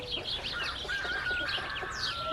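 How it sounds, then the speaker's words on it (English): An aggressive rooster gives short, rapid clucks and chirpy calls, fairly close and steady over a constant low background hum, with no talking. "he's really a cool looking rooster"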